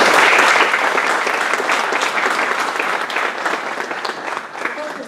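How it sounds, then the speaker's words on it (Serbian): Audience applause at a Cuba Days cultural event in Novi Sad after a dance school performance, a loud, dense burst of clapping from a full hall that fades slightly toward the end. "Te vas još jednom molim jedan aplauz za..."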